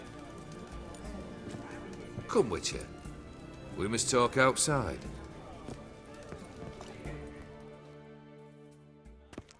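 Horse hooves clip-clop in The Witcher 3, a steady plodding of the mount mixed into the game's ambience, with voices talking over it in the middle of the stretch.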